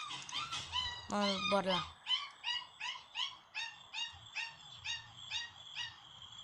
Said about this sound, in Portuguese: Ah, meus cachorros irritantes.